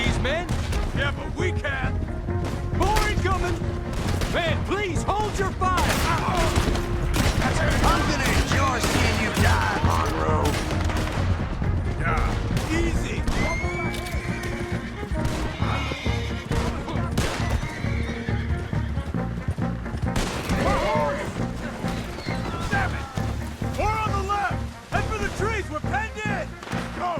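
Gunfire in the Red Dead Redemption 2 video game, with volleys of shots cracking alongside horses whinnying and hooves clip-clopping, while characters talk over the action throughout.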